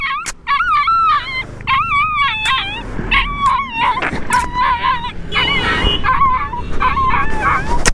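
A street dog hit by a vehicle on the road whimpers, yelps and howls loudly and close by in a continuous run of high, wavering cries, with some traffic noise underneath.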